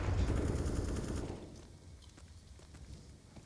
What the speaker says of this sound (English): One shot to connect for Device.